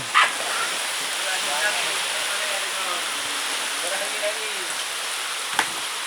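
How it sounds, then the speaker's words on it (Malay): A steady, heavy downpour with wind roars continuously, with a faint voice murmuring beneath it and a couple of brief knocks. "cuaca hujan deras dan angin-angin"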